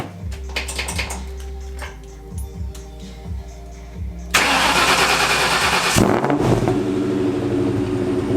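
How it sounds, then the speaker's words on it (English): A Ford Mustang Cobra engine cranks and fires up after a subframe install, a loud burst of ignition settling into a steady, rough idle after a few seconds of quieter shop clatter. "Finally ready to hear this unit fire back up again after we set her down on the ground"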